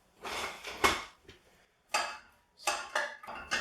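Metal lid clattering onto a pan of sweating onions, a few close, bright clanks and scrapes in quick bursts with short pauses between.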